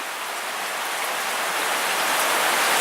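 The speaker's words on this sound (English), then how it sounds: "Hailing is back. And it's coming back even harder now." Hail and heavy rain pound a Seattle street in spring, a dense, loud, unbroken hiss of impacts that builds slightly toward the end, with no talking.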